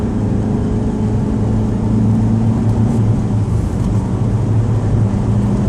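A Mitsubishi Pajero Junior engine drones steadily at high revs in 5th gear at about 50 mph, a constant loud mechanical hum with no speech over it.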